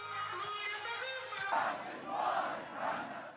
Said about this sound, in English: The crowds cheered, claiming the axis of resistance remains strong and defiant